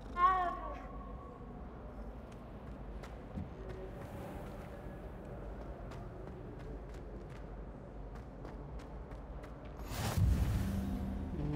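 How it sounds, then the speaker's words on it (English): A cat meows in the video game Hogwarts Legacy, a series of soft harmonic mews at the start, with faint scattered game sounds after and a louder rush of noise near the end. "Kitty cat, kitty cat."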